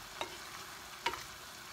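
Caribbean saltfish stew simmers in a pot on medium-low heat, with a soft, steady sizzle and two brief clinks of a utensil against the pot, heard close and with no voices.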